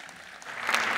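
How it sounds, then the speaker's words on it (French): Audience applause welcoming three panelists at a panel talk, swelling quickly from a soft start into fuller, louder clapping by the end of the brief moment. "On peut déjà les applaudir."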